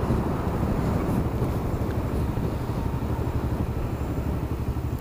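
Steady wind roar buffets a rider on the highway in traffic, a continuous dense rush with a low engine rumble underneath, loud and unbroken throughout.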